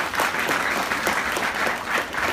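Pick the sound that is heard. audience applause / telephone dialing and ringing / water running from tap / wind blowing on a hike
audience applause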